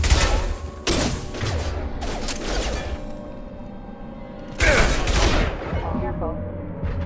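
Gunfire bursts from a Mass Effect 2 firefight, with dense volleys near the start and again at the end over a steady roar of game ambience.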